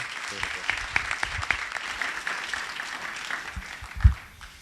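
Scattered, modest applause from the audience at a book presentation on historical memory, with irregular claps fading toward the end and a single louder thump near the close.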